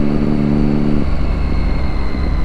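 A Triumph Daytona 675 motorcycle being ridden, with a sustained engine drone whose steady tone drops off after about a second, leaving rumbling road and wind noise close to the rider.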